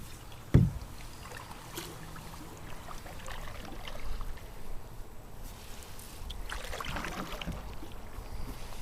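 Canoe paddled on a lake: soft water swishes and splashes from paddle strokes, with a knock early on and faint wind, close and steady, no talking.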